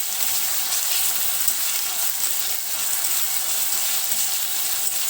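Spice masala frying in oil in a kadai (wok) while being stirred for a sour ambra and small puti fish dish, producing a loud, dense, continuous hiss and sizzle close by, with no speech.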